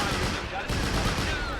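Gunfire crackles in a WWII video game battle as ANZAC forces defend a bridge crossing in Greece, 1940, a loud continuous rattle of overlapping shots with low rumbling booms, no pauses.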